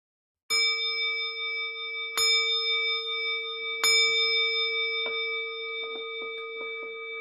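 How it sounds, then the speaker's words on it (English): A meditation bell rung at the close of a sitting period during a webinar on addiction treatment: three clear, ringing strikes a couple of seconds apart, each left to sustain and decay, followed by a few lighter taps, with no voices. "And at the sound of the bell, whatever your body wants or needs to do after a period of sitting."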